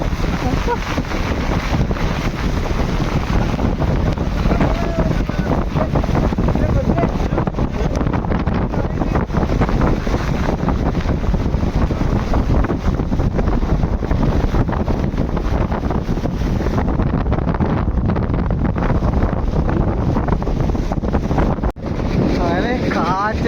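A fishing boat out at sea in wind and rain, buffeted by a loud, steady roar of gusting wind on the microphone mixed with rushing water and rain, continuous and harsh throughout with no clear break.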